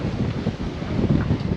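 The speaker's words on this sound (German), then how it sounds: "Der Wind hat sich gedreht" Strong wind buffets a sailboat moored against a pier in a South Seas storm, a steady rumbling roar of gusts and microphone buffeting with no voices.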